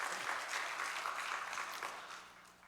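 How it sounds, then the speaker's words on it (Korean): A church congregation applauds during a Sunday worship service, a soft, diffuse wash of clapping heard at some distance that gradually fades. "주님께 영광의 박수."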